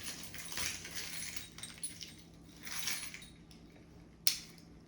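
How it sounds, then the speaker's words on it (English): Keys on a keychain jangle in short metallic bursts, close and fairly quiet, while a taped package is opened, ending in one sharp clink. "This is why I have a barrage of stuff on my keychain."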